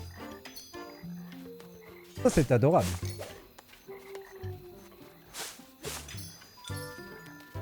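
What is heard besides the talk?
frogs croaking in a swamp at night, from a video game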